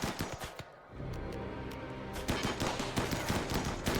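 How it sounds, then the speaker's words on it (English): Mini turrets fire in the video game RimWorld, in a Frostpunk-themed colony fighting off insects. Rapid bursts of crackling gunfire repeat densely and fairly loudly, then a steadier rattling volley takes over, with no voices. "what I could do is temporarily turn them on, shoot at Nicole like this, driving her back"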